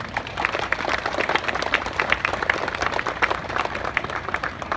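Steady applause from an audience at the Robot Land opening event in Gyeongnam, South Korea, many hands clapping at moderate volume in a continuous patter for several seconds.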